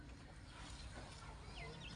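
Chickens cluck faintly in the distance over a constant outdoor rumble, with no one speaking.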